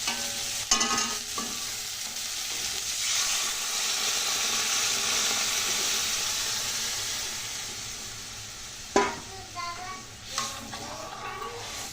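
Coconut milk poured into a prawn curry simmering in a pan and stirred, a close steady hiss and bubbling with a few clinks and scrapes of the spoon.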